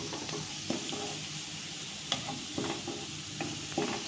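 Steady sizzle of onions frying in a pan, turning translucent, with occasional soft clicks of stirring throughout.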